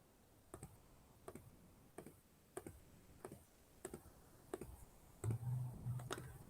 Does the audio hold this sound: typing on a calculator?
yes